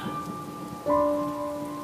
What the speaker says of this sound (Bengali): হঠাৎ করে ঝড় বৃষ্টিটা কেন যে এলো